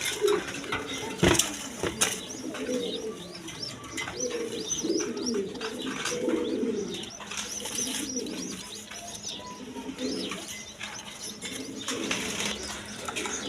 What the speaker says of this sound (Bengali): দশমীদা এখানে এক পেয়ার স্প্রিং কবুতর আছে